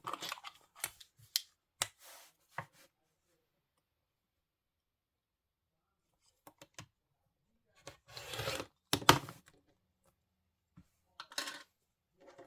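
Scissors trim a quilted Christmas wall hanging, making scattered crisp snips and clicks in short bursts, separated by long silent gaps, close and fairly quiet.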